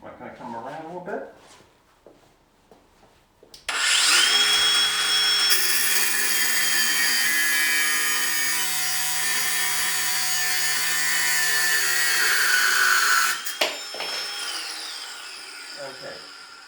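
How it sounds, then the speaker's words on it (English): An angle grinder cuts through steel in a loud, steady high-pitched whine that lasts about ten seconds and then winds down, close by, with talk before the cut and after it. "we're going with the angle grinder"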